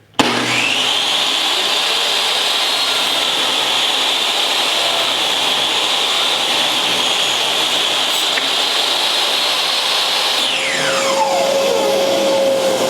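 A power saw cuts mitered picture frame molding with a loud, steady whine that runs for about ten seconds, then winds down as the blade spins to a stop. No one speaks.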